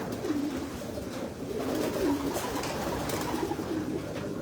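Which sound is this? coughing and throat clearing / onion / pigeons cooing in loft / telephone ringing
pigeons cooing in loft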